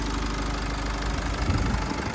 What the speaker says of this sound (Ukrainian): Мотор працює чітко, рівненько, ніяких запотівань, підтікань нічого не бачу.